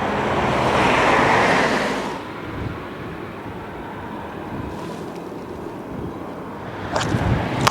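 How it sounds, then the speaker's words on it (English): Wind buffets a microphone on Morecambe promenade at night, a heavy rumbling rush that swells loudly at first, eases into a lower steady roar, then gusts again with sharp thumps near the end. "Still got my mic on, it's very windy tonight."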